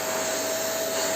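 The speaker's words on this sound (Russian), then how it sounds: "Вы увидели этот пылесос в деле. Немножечко шумноват, чуть-чуть шумноват." A powerful new household vacuum cleaner runs on its own with a loud, steady roar and a thin high whine, cutting off abruptly at the end.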